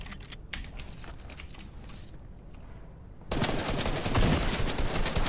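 Rapid bursts of Fortnite gunfire, sharp repeated cracks early on, then a dense loud rattle of sustained shooting filling the last couple of seconds.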